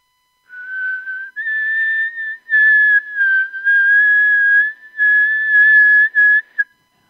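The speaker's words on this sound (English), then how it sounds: "I can whistle in the microphone" Loud, clear whistling close to a microphone: a few sustained, slightly wavering tones in short phrases separated by brief pauses, then a quick final chirp.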